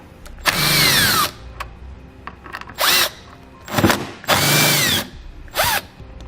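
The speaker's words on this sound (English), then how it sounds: "We'll start by removing the 2 bolts on our passenger side here using a T30 torque socket." A power driver fitted with a T30 Torx socket removes the tail light bolts on a 2018 Jeep Cherokee, with loud whirring bursts of about a second each that rise and fall in pitch, separated by short pauses and clicks.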